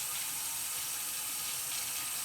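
Running water wetting hair locs during shampooing, a steady close hiss of flowing tap water spraying and splashing throughout, alone without talk.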